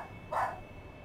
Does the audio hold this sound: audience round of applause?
no